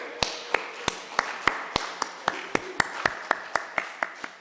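Churchgoers at a Korean Sunday worship service clap together in a steady, even beat, about sixteen sharp claps spaced evenly apart, crisp and close, with quiet room tone between them.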